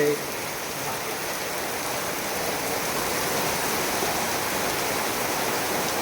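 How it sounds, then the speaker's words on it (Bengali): Heavy rain pours down outdoors in a steady, dense hiss that fills the scene for the whole stretch, loud and unbroken with no talk over it. "এত বৃষ্টি হয় রে।"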